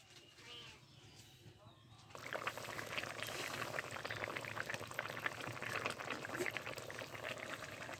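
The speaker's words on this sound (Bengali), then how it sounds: "এভাবে আমি 2 মিনিট ফুটিয়ে নেব" Curry of spinach stems, turnip and mrigal fish preparation bubbling in a pan: quiet low hum at first, then from about two seconds a steady, dense boil with continuous popping bubbles close by.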